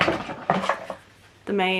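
A metal cutlery set handled at close range, giving a few bright clinks and knocks that end in one sustained, ringing metallic tone.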